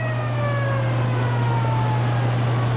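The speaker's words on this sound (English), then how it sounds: "They just blew the siren." A siren wails from a distance at Neely Henry Dam, its pitch sliding slowly downward, over a steady low engine drone.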